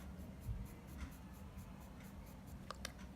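A pencil shades on paper with increased pressure, making soft, continuous scratchy strokes in a steady rhythm. It is close but quiet, with no talking.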